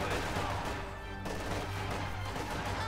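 Stun grenade detonating in Company of Heroes 2, a World War II strategy game, amid dense ongoing battle noise with continuous gunfire and explosions throughout, loud and busy with no clear single isolated blast.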